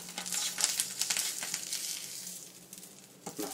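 An egg fries without oil in a ceramic wok, giving a soft, steady crackling sizzle with light scraping taps, close and fairly quiet, no talk.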